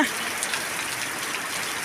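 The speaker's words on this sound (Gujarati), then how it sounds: "આજે બગદાણામાં વરસાદ શરૂ થઈ ગયો છે" Steady rain falling in Bagdana, Gujarat, a dense even hiss of drops on surfaces with no break, close and moderately loud.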